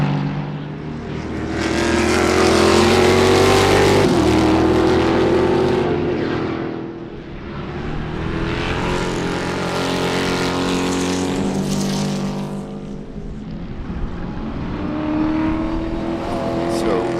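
Hendrix Motorsports Porsche race car during an SCCA race at Sebring, its loud engine note rising and falling as it accelerates and passes, sustained throughout with a commentator talking over it.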